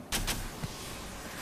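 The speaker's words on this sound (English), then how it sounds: "Giving my shields a recharge." Apex Legends shield recharge: two quick hissing whooshes, then a soft mechanical clunk and a fading electronic hum, close and fairly quiet.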